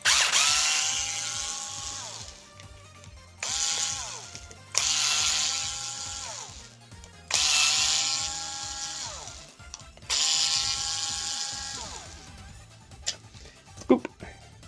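A power screwdriver spins out screws on an Xbox One X console in short whirring bursts of about two seconds each, four in a row with brief pauses between them, close and clear, followed by a sharp click near the end.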